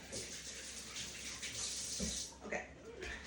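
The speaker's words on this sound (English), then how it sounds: "Now I have to wash my hands." Tap water runs steadily as hands are washed under it in a kitchen while cooking, with a close, continuous rushing and brief splashy shifts near the end.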